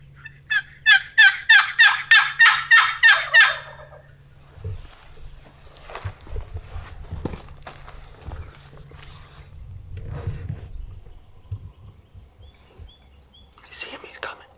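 A Rio Grande wild turkey hen in Texas calls with a loud, rhythmic run of about ten yelps. Hushed whispering and rustling follow, and another brief turkey call sounds near the end.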